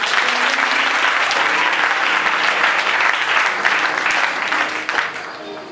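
Sustained, dense applause from a church congregation at a Sunday convention service in Abidjan, loud and steady throughout before easing slightly at the end.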